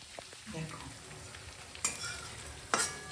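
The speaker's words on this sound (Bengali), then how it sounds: "দেখো চিংড়িগুলো ফ্রাই হচ্ছে" Small shrimp frying in a pan, a soft continuous sizzle with two sharp clatters of a utensil against the pan, fairly quiet and close.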